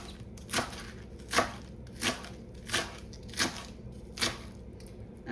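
A knife roughly chops little gem lettuce on a board, with about seven crisp, evenly spaced crunching cuts, close and clear.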